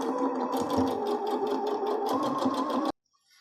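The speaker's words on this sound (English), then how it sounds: "Sew along this seam with a 3/8 inch seam allowance. Don't forget to backstitch as you begin to sew." A sewing machine stitches a fabric face mask seam, running in a steady loud rhythmic whir that stops abruptly near the end.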